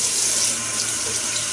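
Warm tap water runs steadily from a faucet into a bathroom sink while wetting the face before shaving, a loud, close, continuous splashing rush with no talking.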